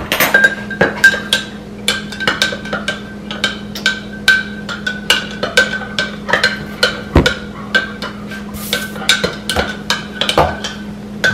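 Slime ingredients being stirred in a bowl with a utensil, producing a rapid run of sharp clinks and taps against the bowl, close and loud, repeating steadily with no talking.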